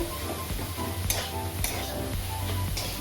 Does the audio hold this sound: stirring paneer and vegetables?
yes